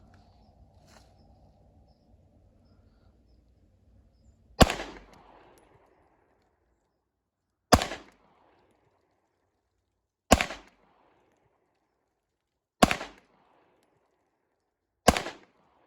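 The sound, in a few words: Sig P228 pistol firing five rounds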